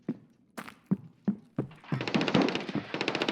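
Gunfire from an M14 EBR rifle in the shooter game SPT Tarkov: several separate sharp shots spaced apart, then a denser burst of rapid reports, at moderate loudness and fairly close.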